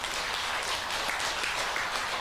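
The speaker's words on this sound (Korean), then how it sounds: "박수 한번 치세요." A congregation claps together at a Buddhist Sunday family dharma service, a brief, fairly soft burst of steady clapping with no voices.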